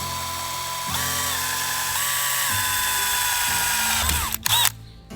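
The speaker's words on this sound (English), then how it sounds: "using a small bit as a pilot hole" A power drill with a small pilot bit runs steadily, boring a pilot hole in a 2nd gen Toyota Tacoma's body for an ARB Safari snorkel install. The motor whines loud and close, shifts pitch as it bites, then spins down and stops.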